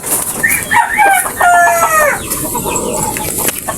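Red Kelso gamefowl cluck and a rooster crows close by, loud and clear, with a long harmonic call over steady outdoor background noise.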